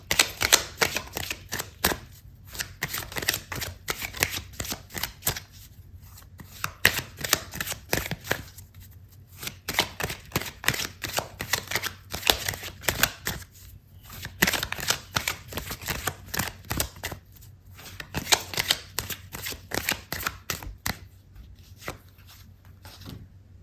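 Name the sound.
shuffling tarot cards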